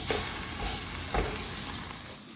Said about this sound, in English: It's got some good sizzle to it